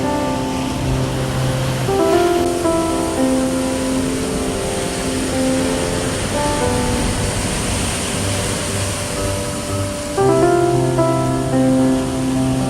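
Ocean surf rolls and breaks against a beach in a continuous, loud wash of noise, with steady tonal music playing over the top throughout.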